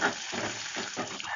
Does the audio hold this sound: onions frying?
yes